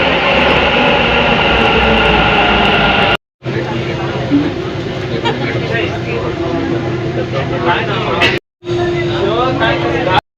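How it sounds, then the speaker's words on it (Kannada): A Bengaluru metro train near Majestic station rumbles steadily at close range with a loud, continuous drone, briefly cut twice, while a voice speaks over the noise. "metro train"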